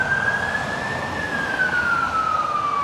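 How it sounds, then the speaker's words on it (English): A fire engine siren wails loud and close in one long rising then falling tone over a heavy rumble of road traffic. "Do you want to wait for this fire engine?"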